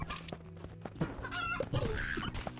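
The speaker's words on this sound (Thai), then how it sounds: "ปืนไก่นี่ฮาดีนะ" A chicken gun in the Juicy Realm video game gives quick bursts of clucking, close and fairly loud over game effects and music.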